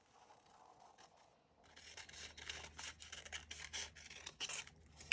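Scissors cut colored paper into small grass shapes, giving quiet, close crisp snips and rustling paper in a quick irregular series, with no talking.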